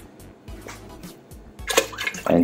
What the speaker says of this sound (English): Now we're going to add water enough that it's just a couple of inches above the meat